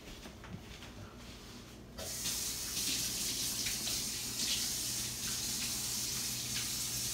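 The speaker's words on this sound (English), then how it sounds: "I'm gonna go to the sink and I'm gonna wash my hands thoroughly" A tap at a kitchen sink opens and runs steadily while hands are washed, a close, continuous hiss of water that starts abruptly after a quiet moment.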